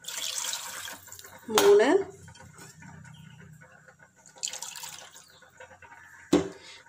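Water poured into a pot while cooking egg biryani, a short splashing pour near the start and another brief splash later, heard under a person talking.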